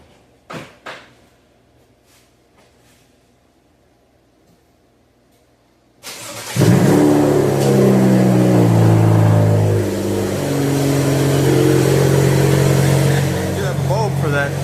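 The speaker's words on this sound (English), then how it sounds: "inside the car and start her up and back her off the jack stands or off the ramps" A BMW cranks and fires up after maintenance on ramps, with a few faint knocks first, then the engine catches with a loud roar and settles into a steady, strong idle.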